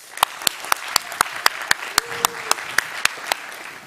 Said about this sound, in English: Please welcome to the stage, with the biggest round of applause that you can